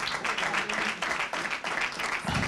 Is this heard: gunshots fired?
no